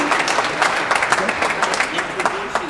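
Audience applause for a band at a Sunday afternoon jazz concert, a dense, steady round of clapping from a crowd that carries on without a break, with a few voices mixed in.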